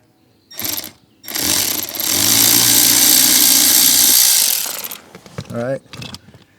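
Power tool spinning out a bolt on a 2020 BMW M340i, loud and close: a brief burst, then a sustained whirring run of about three seconds, followed by rattling handling noises and a short winding-down whine.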